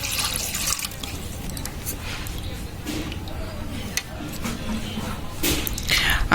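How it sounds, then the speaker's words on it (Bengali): Water is poured onto lime and stirred in to make a soaking mix for mango marmalade, producing a continuous close sloshing and splashing while a person talks. "জল দিব, জল দিয়ে গুলিয়ে নিব।"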